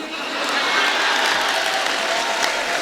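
Dense, steady applause from an audience at a Hindi poetry gathering, a continuous wash of many hands clapping, loud and close throughout the short stretch.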